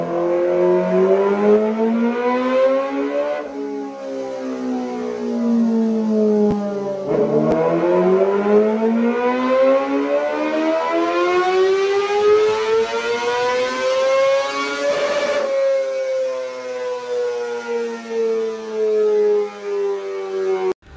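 A Kawasaki Ninja 250 four-cylinder motorcycle engine revs up and down repeatedly, its smooth high-pitched wail rising and falling loud and close, with no talking.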